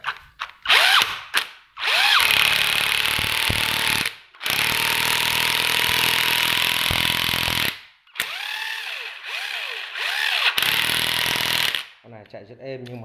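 A cordless battery-powered rotary hammer runs close by in loud bursts of hammering, with short pauses between runs and a brief quieter whir at the end.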